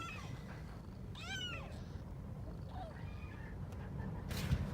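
A cat with newborn kittens mews faintly, giving a few short, high, rising-and-falling calls over a low, constant background rumble.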